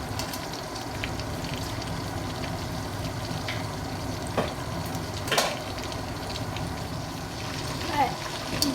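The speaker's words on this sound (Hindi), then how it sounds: "1 से 2 मिनट एक तरफ और 1 से 2 मिनट एक तरफ, इस तरह से हम इसको फ्राई कर लेंगे कोफ्तों को।" Chicken koftas fry in a pan with a steady, close, crackling sizzle and occasional sharper pops, while someone speaks over the cooking.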